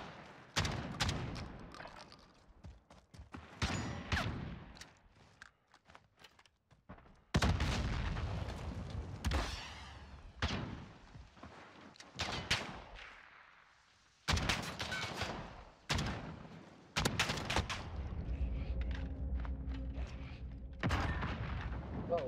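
Gunfire in Call of Duty Modern Warfare during a one-on-one gunfight, with heavy booming shots, including a shotgun firing slugs, and several loud close blasts separated by quieter stretches of game sound.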